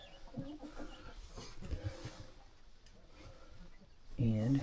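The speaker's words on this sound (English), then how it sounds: "chicken in the nest box" A hen in a farm nest box gives soft intermittent clucks among low rustling and quiet talk, ending with a louder close call.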